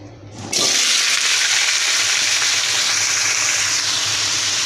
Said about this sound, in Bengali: তেল গরম হয়ে গেছে কুমড়া দিয়ে দেবো